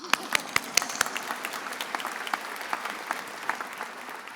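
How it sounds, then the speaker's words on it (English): An audience at a medical school commencement claps together, starting with a few sharp claps and settling into steady, moderate applause from a crowd at some distance. "We can clap for that."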